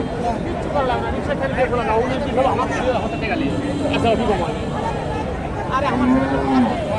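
Friesian cows low at a busy cattle market, with a few drawn-out moos rising above steady crowd chatter and nearby voices.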